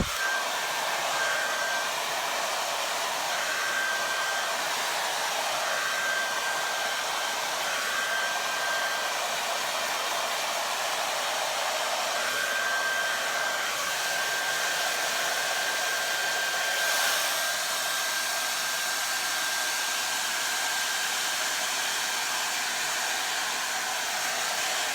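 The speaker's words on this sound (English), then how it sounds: "Take your hair, blow it out, blow it forward." A handheld hair dryer blows steadily and loudly while hair is being blown out and styled for a voluminous salon-style blowout, a constant airy roar with a thin whine riding on top and no voices throughout.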